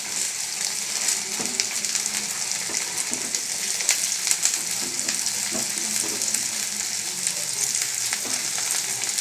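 Onions and green chilies sizzle steadily in hot oil with cumin, a dense continuous frying hiss with small crackles and occasional stirring clicks, close and fairly loud throughout, no talking.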